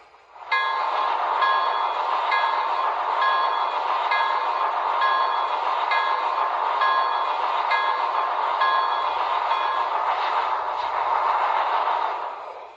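A sound-equipped MTH HO scale 2-8-4 Berkshire model of Nickel Plate Road #765 rings its locomotive bell, a close, steady, evenly paced metallic clanging that repeats for about twelve seconds before cutting off, with no talking.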